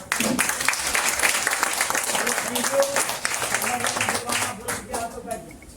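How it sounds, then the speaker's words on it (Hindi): Scattered hand clapping from a crowd, steady and moderately loud for several seconds, with voices murmuring underneath. "और बैठे हुए लोग तो ताली बजाइए कम से कम।"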